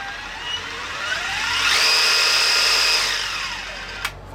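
A corded jigsaw with a speed adjustment knob winds up to a steady high whine, holds for over a second, then spins down, with a sharp click near the end.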